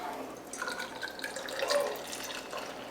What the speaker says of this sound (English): It's pouring like a New England style.